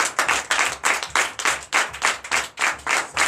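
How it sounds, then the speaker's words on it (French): Rhythmic group clapping at a Sunday church service in Comè, Benin, steady and fairly loud, with no voices over it. "je vous demande de l'applaudir très fort"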